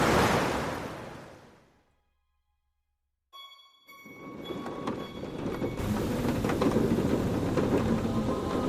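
A thunderstorm in the video game A Fisherman's Tale, a rolling thunder rumble that fades to silence, then heavy rain and wind swell back in and hold loud and steady.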